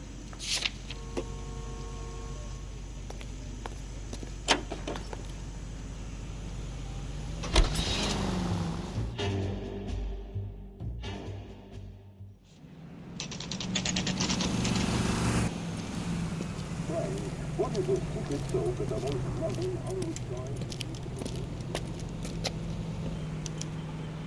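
A 1940s car in L.A. Noire drives through city streets with a low steady engine hum and road rumble, faint clicks early on, a brief drop in sound midway, then the engine returns under light street ambience.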